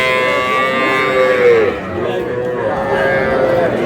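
A young bull calf at a cattle market gives a loud, drawn-out moo, with a second lower moo following, close to the listener over a background of market murmur.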